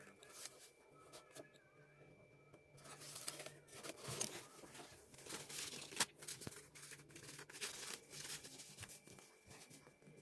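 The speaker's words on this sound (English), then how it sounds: "I get my cardboard and measure 2 inches from it and cut off." Scissors cut through cardboard in a crafting session, with crisp scraping and snipping strokes at close range, quiet and irregular, alongside soft speech.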